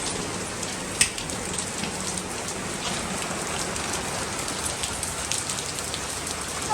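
Heavy rain falls during a Hong Kong black rainstorm warning, a dense, even roar of drops on surfaces with one sharp louder tap near the start, steady and close throughout.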